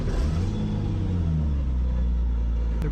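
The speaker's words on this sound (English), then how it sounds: "There's a lot of noise in this car because it has no deadening, no interior." Loud, constant engine roar inside a Gunther Werks turbo Porsche with no sound deadening or interior trim, with deep rumbling and rising revs, heard up close and uninterrupted.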